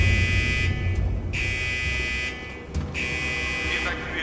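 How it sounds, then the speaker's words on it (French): Psychiatric ward fire alarm blares in long, loud pulsing buzzer tones, cutting out briefly between repeats, with voices faintly underneath. "C'est l'alarme incendie du quartier psy."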